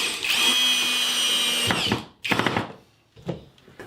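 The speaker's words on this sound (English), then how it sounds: "And screwing it together." A power drill drives screws into a wooden miter jig, with a sustained loud whir for nearly two seconds followed by two shorter bursts, close and alone.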